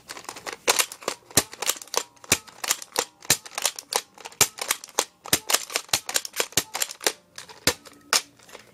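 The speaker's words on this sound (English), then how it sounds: "And it can be spun to reload." Rapid dry clicks from a Nerf Maverick revolver's cylinder being spun, a dense ratcheting series of sharp ticks, close and fairly loud, with brief pauses between bursts and no talking.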